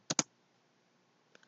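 Two quick keystrokes on a computer keyboard as a short command is entered in a terminal, followed after a pause by two fainter taps; close and isolated with no talking.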